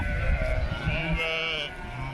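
Sheep bleat repeatedly in a pen of ewes kept back for breeding, several overlapping calls close by over a steady farmyard background.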